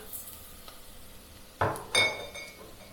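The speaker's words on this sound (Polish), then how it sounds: "Do tej podsmażonej cebulki wsypujemy teraz soczewicę, bulgur" Dry red lentils and bulgur are tipped into fried onions in a cooking pot, making two short clattering rushes of grain against metal. Faint clinks of cookware come before them, and the background is quiet.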